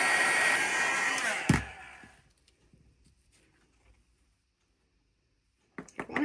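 A heat tool warms glittery embossing powder, blowing with a steady loud whoosh for about two seconds before switching off with a thump, followed by near silence and a few faint clicks.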